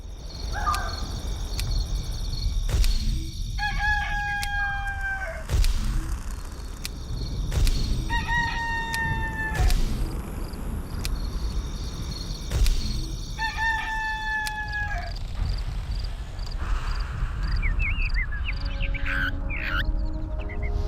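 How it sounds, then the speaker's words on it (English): A rooster crows in the video game Black and White 2, three clear cock-a-doodle-doo calls at steady intervals over a low ambient game background, with faint clucking and other bird sounds near the end. "Roosters always crow when the sun comes up."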